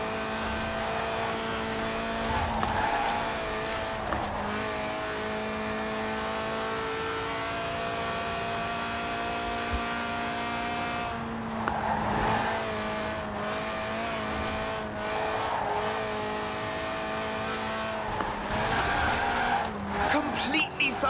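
A high-revving 1.8-litre race car engine, revving to 8,000 RPM in Forza Horizon 4, holds steady with tire squeal and skidding bursts as the car drifts, loud and continuous throughout.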